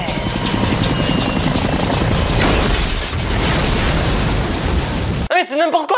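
A helicopter crash film sound effect: a loud, dense rotor roar and rumbling mechanical noise building to a heavy boom, then cutting off abruptly as a voice speaks over the silence.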